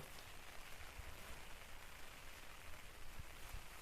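Light early rain falls over an open village pasture where goats graze, a faint, even patter that stays steady throughout with no voices.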